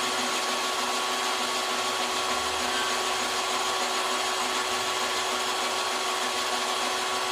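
A drill machine bores a hole in a stainless steel plate, giving a continuous, steady whirring hum with a faint high tonal whine. The sound is fairly quiet and unchanging throughout, with no talking.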